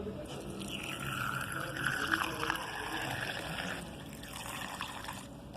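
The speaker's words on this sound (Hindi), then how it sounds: "दूसरा सिलेंसर वाली जगह से पेट्रोल डालेंगे इसमें" Petrol is poured into a Honda CG 125 motorcycle engine through the silencer opening, giving a faint, steady trickle and splash of liquid running for several seconds at close range.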